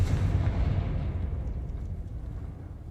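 A fiery Confringo explosion spell from a video game, a loud, broad rumbling blast that starts strong and slowly fades away over a few seconds, with no voices.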